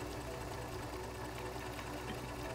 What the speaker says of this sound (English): Make sure you have your sewing machine settings fit for stretchable material.